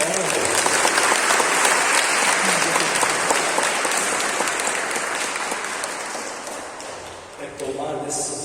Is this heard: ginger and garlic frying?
no